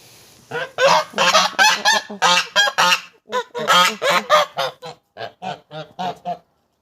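A flock of geese honking repeatedly in loud, overlapping bursts, close by, with a brief pause midway before more honks follow.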